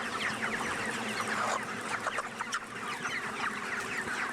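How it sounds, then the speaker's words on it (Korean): A crowded chicken farm shed in Anseong, Gyeonggi-do, is filled with a dense, continuous chorus of clucking and chirping from many young chickens, close and steady with no voices. "경기도 안성시 보계면에 위치한 닭 사육장을 다시 찾았다"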